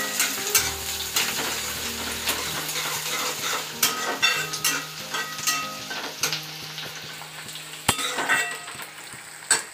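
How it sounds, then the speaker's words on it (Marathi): Onion sizzling in hot oil with mustard seeds in a pan, a steady close fry crackle broken by sharp clinks and scrapes of a spoon stirring against metal. "मोहरी थोडीशी तळली गेली की नंतर त्याच्यामध्ये कांदा घालणे"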